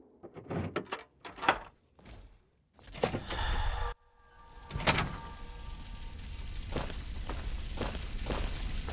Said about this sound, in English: Looks like it's all clear. Unlocking outer doors.